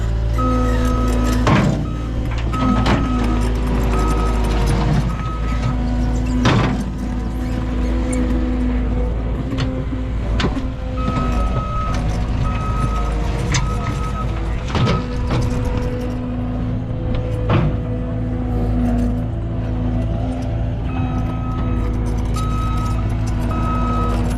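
A machine backblading and finishing a dirt track, a steady heavy diesel rumble with repeated reversing beeps and sharp clanks of the blade at intervals, heard close and continuous.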